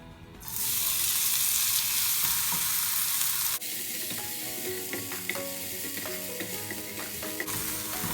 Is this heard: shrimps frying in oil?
yes